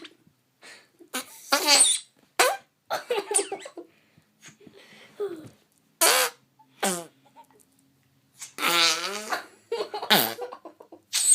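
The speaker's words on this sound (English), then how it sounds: "Just listen to the fart noises." Squeezed dog chew toys give off a string of squeaky, wet fart-like noises in short bursts of varied length with silent gaps, fairly loud and close, with occasional laughter.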